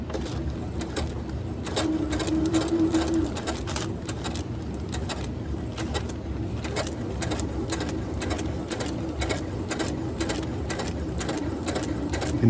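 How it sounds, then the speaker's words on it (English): A sewing machine stitching kite arch fabric: a continuous rapid mechanical chatter with a regular rhythm, close and steady throughout, with no voices. "And now I'm going to start sewing again."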